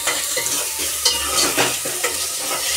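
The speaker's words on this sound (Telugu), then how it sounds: "బాగా కలపండి." Onions with ginger garlic paste being stirred as they fry in a pan, a steady close sizzle broken by repeated scraping strokes of the spoon, no speech.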